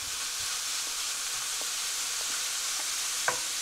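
Ground chuck beef browning in a pan, a constant close sizzling hiss punctuated by occasional light stirring taps and one small clink near the end.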